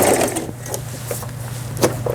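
A Brother Star10 household sewing machine stitches steadily at close range, its even mechanical whir running continuously under a low hum, with a few brief clicks near the end.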